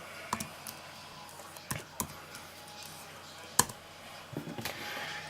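Someone types on a computer keyboard, producing a few sparse, faint keystroke clicks scattered over several seconds against a quiet room background.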